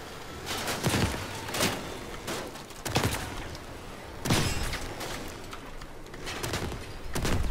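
Shotgun fire in the vehicle combat game Crossout from a fast tank-car build armed with three Arothron fragment shotguns, a run of loud, booming blasts spaced a second or so apart over a steady battle din.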